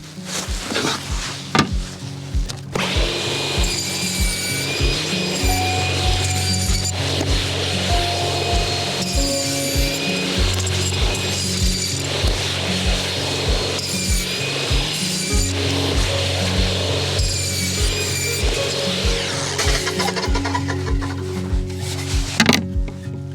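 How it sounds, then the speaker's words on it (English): Loud, close power saw cutting plywood into squares, a sustained grinding whine with a pulsing low rumble and repeated rhythmic surges throughout, no voices. "with the rest of the plywood that we have, we're going to cut them into squares"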